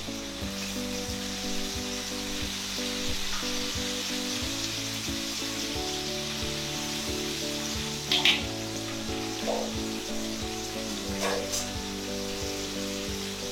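A whole fish fries in hot oil, giving a steady dense sizzle and crackle throughout, with a few brief clinks and pops standing out near the middle.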